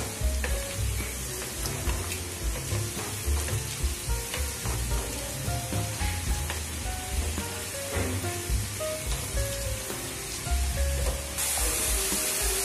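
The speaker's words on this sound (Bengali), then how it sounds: "এবার আলুর পপকর্নগুলি ভালো করে লাল লাল করে ভেজে নেব।" Potato popcorn pieces deep-frying in hot oil, a steady dense crackling sizzle with bubbling pops throughout, fairly close and continuous with no voices.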